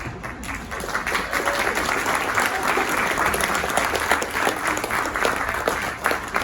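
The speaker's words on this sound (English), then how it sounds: "everyone can give you also a proper honor for more applause" An audience applauds an artist at the unveiling of a new mural at Casa Adelante, with dense, steady clapping from a crowd that holds loud and even throughout.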